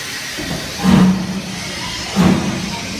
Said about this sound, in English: the train gets uncoupled and moves away in one big puff of steam.